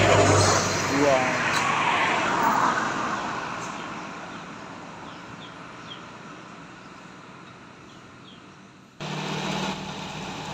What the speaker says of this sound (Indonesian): Ini bus dari Pekanbaru, kawan-kawan, PT Rapi.